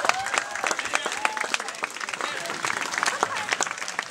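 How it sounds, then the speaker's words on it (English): Crowd applause at outdoor cardboard box boat races, a lively, uneven patter of many hands clapping with scattered sharp claps and faint voices mixed in, continuing at a fairly even level. "Give everybody a round of applause."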